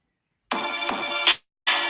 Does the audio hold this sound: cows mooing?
no